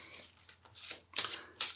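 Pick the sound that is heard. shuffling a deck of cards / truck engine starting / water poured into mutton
shuffling a deck of cards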